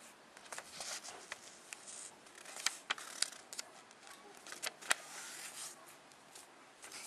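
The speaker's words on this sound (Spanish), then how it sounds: "Recortamos con las tijeras por la parte de raya." Scissors cut paper while an origami crane is being made, producing a run of soft, irregular snips and crisp clicks up close. The cuts are fairly quiet against a faint background, with no talk over them.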